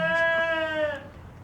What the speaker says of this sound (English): We got little baby goats right here.